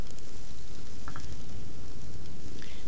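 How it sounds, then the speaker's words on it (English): Steaks fry in a hot pan with a steady, soft hiss and a few faint pops that continue evenly throughout. No one speaks. "I can just hear that sizzling in the background"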